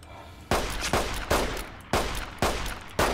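Gunfire in the video game Fallout New Vegas: six sharp, loud shots at irregular intervals about half a second apart, each with a short decaying tail, no speech.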